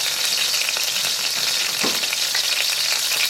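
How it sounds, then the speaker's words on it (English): Garlic and anchovies fry steadily in oil, a continuous crackling hiss close by with no one talking. "Once the anchovies are frying nicely, I'm just going to go ahead and add the garlic"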